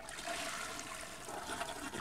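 A toilet flushes in The Sims 4, a rushing, gurgling swirl of water that holds steady and fades slightly, fairly quiet and heard alone.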